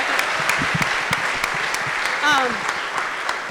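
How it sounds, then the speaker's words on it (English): An audience at a school athletic awards ceremony applauds the team, with sustained, crowded clapping and a brief rising shout or cheer partway through, plus scattered voices in the room. "Let's give the whole team one more round of applause."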